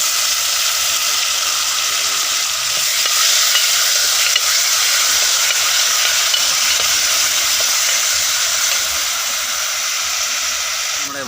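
Vadukapuli (wild lemon) curry sizzles and fries steadily in a pan while being stirred, a dense, even crackle that carries through the whole stretch with no voices.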